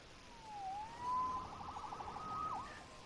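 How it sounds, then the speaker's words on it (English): A police siren wails and yelps at a moderate distance in the video game Marvel's Spider-Man, its pitch sliding up and down before a quick warbling burst, over faint background noise. "Saved by the siren."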